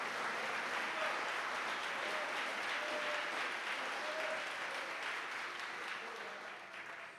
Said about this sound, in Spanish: Denle un fuerte aplauso a los despiertos